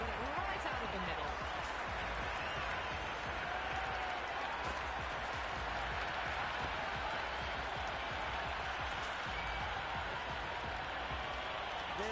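A cricket stadium crowd at an India vs South Africa T20 warm-up match applauds and roars after a big hit, a dense, steady wall of clapping and crowd voices that stays loud throughout.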